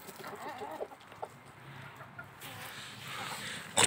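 A rooster out in the yard with his hens gives soft, low clucking calls to them, a few short bursts at moderate distance amid quiet outdoor background.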